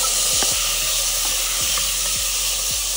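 Cumin seeds, onion and tomato sizzle steadily in a hot pan, a constant bright frying hiss with a few soft stirring scrapes, close and alone with no talk.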